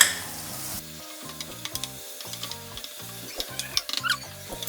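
Garlic ginger paste frying with onions in a pan, a close sizzle that surges when the paste goes in, then steady crackling with intermittent stirring scrapes.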